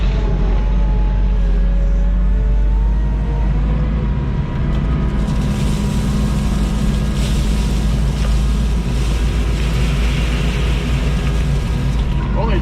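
A skid steer grades and compacts base for a concrete pole barn floor, its engine a steady, heavy low rumble close by under gusty wind noise, continuous throughout.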